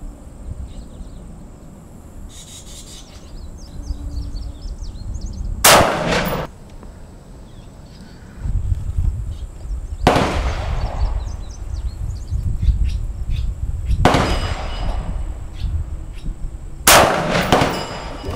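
Armalite AR-180 rifle in 5.56 fired outdoors, four loud, sharp reports spaced several seconds apart, each with a ringing tail, over steady background of insects and birds.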